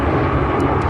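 Boeing 757 airliner in flight makes a dense, steady roar of engine and airflow noise, loud and unbroken throughout.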